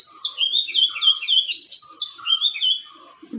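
A sparrow chirps in a quick string of bright, high tweets, close and clear, with short pauses in a quiet early-morning setting.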